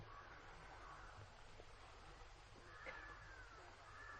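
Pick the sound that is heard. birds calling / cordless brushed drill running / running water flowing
birds calling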